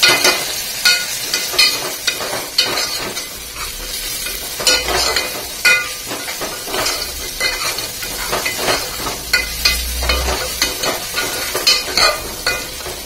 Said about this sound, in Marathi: आपण आता थोडा ढवळून घेतो, मिक्स करून घेतो थोडा व्यवस्थित.